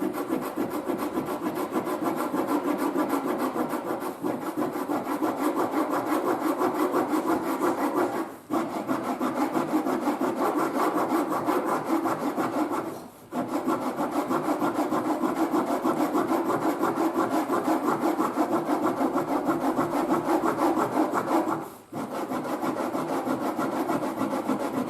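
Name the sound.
scraping material away along a line on a belt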